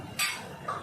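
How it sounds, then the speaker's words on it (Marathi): Dishes being washed by hand, with two quick metallic clinks of utensils knocking together close by, the first sharper and the second softer, over faint background noise. "मी जरा भांडी घासून घेते."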